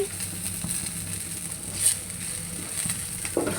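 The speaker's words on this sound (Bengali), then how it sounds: "বাদামি কালার হয়ে যায় তার আগ পর্যন্ত আমি ভাজতে থাকব" Vegetables frying in a pan until brown, a soft continuous sizzle with faint stirring taps, close and steady.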